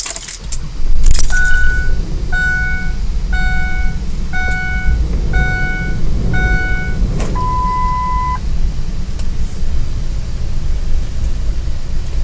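A car's ignition chimes in a steady series of evenly spaced tones, then a longer tone, over a constant low rumble, with keys jangling at the start; no clear engine crank stands out.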